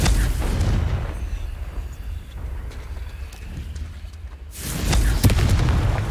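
Explosive spell blasts in the video game Hogwarts Legacy, loud booming bursts at the start and again near the end, with a rumbling lull between them.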